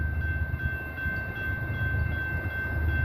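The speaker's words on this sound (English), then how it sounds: "Also heard a train coming from the other direction too." A train rumbles past at night as a steady low roar, with a thin sustained whine running through it and no voices.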